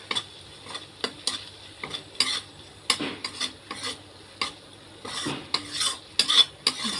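Fish curry spice paste fries in oil while a utensil stirs it, with repeated uneven scrapes and clatters against the pan over a light sizzle.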